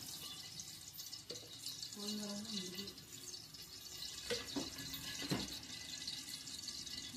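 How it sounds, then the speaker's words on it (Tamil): Water is poured into a pot for vegetable biryani, splashing and trickling at close range with a few faint clinks and drips, quiet and intermittent against a soft background hiss. "தண்ணி ஊற்றியாச்சு"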